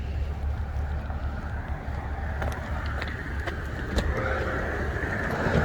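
A 2022 Acura TLX Type S AWD idles with a low steady engine rumble, heard close outdoors beneath some wind noise and a few light clicks.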